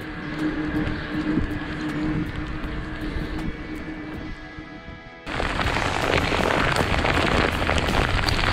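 Hail pelting down during a long e-bike tour, a dense, steady rushing patter of ice striking surfaces around the rider, which jumps sharply louder and brighter partway through and stays intense.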